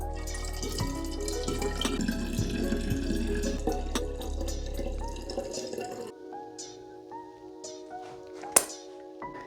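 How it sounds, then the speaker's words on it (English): Butter-washed Elijah Craig Small Batch bourbon is poured into a container, a close gurgling, trickling stream of liquid with some knocks, ending in quieter drips and a sharp clink near the end. "Pour it into this container to make it a little easier to get into the bottle."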